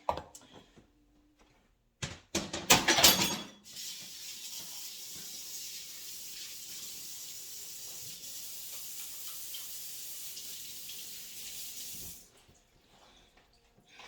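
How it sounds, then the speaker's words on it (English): Water runs steadily from a kitchen faucet into the sink as hands are washed, preceded by a short clatter of something tossed into the sink, then cut off, close and continuous without any talking. "Wash off my patties, throw this in the sink."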